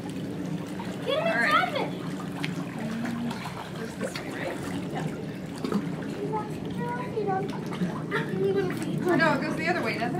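Water splashing up close during a family outing at Disney, with lively talk and a voice over it.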